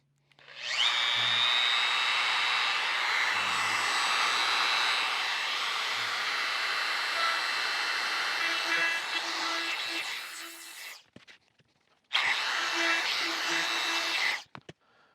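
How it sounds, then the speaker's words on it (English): A trim router fitted with a 1/8 round over bit whines loudly and steadily as it rounds over wood edges, running for about eleven seconds, cutting out briefly, then spinning up again for a short second pass. "use a 1/8 round over bit on the trim router here and just round over the edges"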